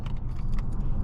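Key fob for a 2022 Kia Stinger GT2 jangling briefly inside the car, light metallic clinks over a low, steady road and engine rumble.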